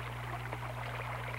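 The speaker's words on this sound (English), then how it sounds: "We like to share the background sounds of the river, too." A river flows steadily in the background, a soft continuous rushing of water with a low hum underneath, heard alone and fairly faint.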